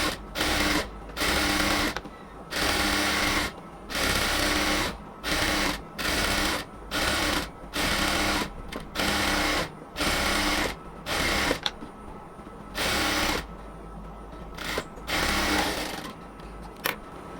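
A sewing machine stitches the side seam of a cotton kameez in repeated short bursts of rapid whirring and needle clatter, each run a second or so long with brief pauses between, close and loud, with no voices.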